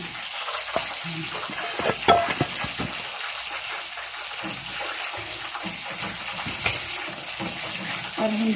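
Garlic sizzles in a hot pan with a bright, steady frying hiss, broken by occasional clatters and stirring scrapes from close by.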